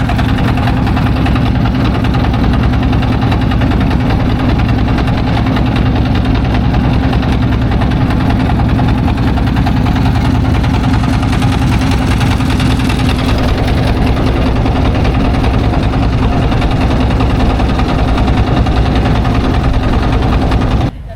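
A trawler boat's engine on the Buriganga river throbs loud and steady at close range for the full twenty seconds, with no talk.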